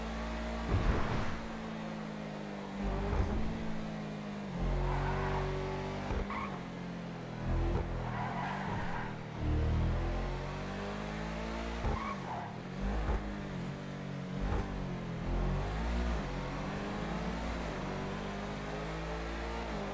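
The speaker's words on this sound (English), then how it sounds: "The sound that engine makes on the freeway." A car engine in GTA 5 revs and drones continuously, its pitch rising and falling with occasional tire noise, heard close and fairly loud throughout.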